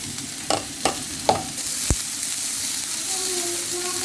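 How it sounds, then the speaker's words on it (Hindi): Chopped onion and cumin seeds fry in a pan with a continuous close sizzle; a few sharp clicks and scrapes of a spoon come early, then the hiss carries on evenly. "इसी में हम डाल देंगे 1 टीस्पून जीरा,"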